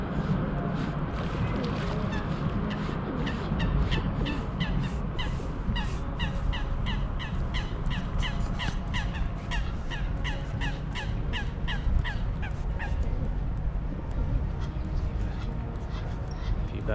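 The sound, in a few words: birds and ducks in St James Park, London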